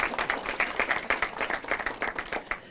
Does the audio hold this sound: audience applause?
yes